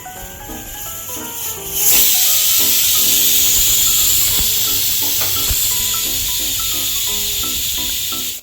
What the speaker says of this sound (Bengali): প্রেশার কুকারে 4টে সিটি দিয়ে দিলেই খিচুড়িটা রেডি হয়ে যাবে